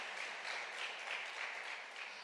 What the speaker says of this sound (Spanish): let's give a round of applause if you believe it with me